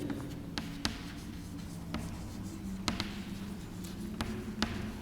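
Chalk scratching and tapping on a classroom blackboard during a lesson on electricity, with several sharp taps and short strokes in an irregular rhythm over a low steady hum, fairly faint.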